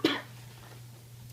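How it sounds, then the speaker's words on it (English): A single short cough right at the start, fairly quiet, followed by a low steady hum and faint background noise. "I keep coughing."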